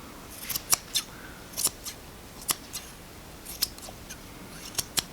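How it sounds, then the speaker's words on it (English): Scissors trim a small wool bobble for a mini hat decoration, giving a series of sharp, crisp snips at irregular intervals, close up, with no talk. "And then you can sort of trim it into a nice round shape."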